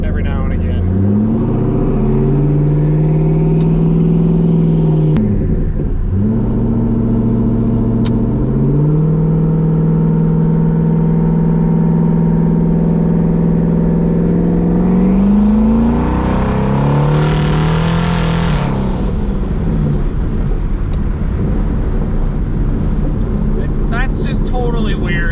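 Twin-turbo Mustang engine revving through a custom exhaust with the hood off, a loud raspy drone that holds steady, dips and climbs again, then surges into a long high rev before settling, close and continuous.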